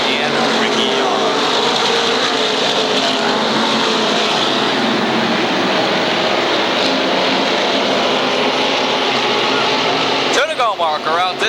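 SK Modified race cars thunder past on a one-third-mile oval, a dense continuous engine roar dominating the clip while an announcer calls the race over it.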